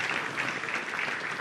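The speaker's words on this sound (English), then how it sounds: "The Honorable Minister relies on clapping for motivation." An audience applauds at a national forum on affordable housing, a dense, even patter of many hands clapping continuously at moderate distance.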